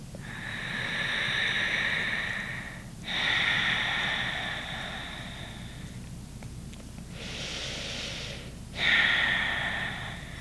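Slow, deep breaths during a hip and hamstring yoga stretch on a yoga wheel, each long airy inhale and exhale close and soft, several cycles in a steady rhythm with brief pauses between.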